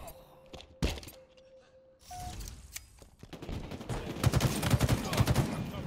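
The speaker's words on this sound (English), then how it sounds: "Shots." Gunfire in the shooter video game Halo Infinite during a ranked match, bursts of rapid shots and impacts that grow denser toward the end, alongside game tones and effects.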